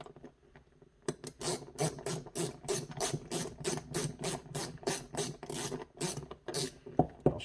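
A socket ratchet tightening bolts on a snowblower carburetor, giving a quick steady run of close, crisp clicking bursts in even rhythm after a brief quiet start, with no talking.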